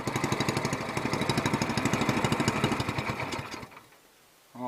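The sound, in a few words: longtail mud motor engine running with new exhaust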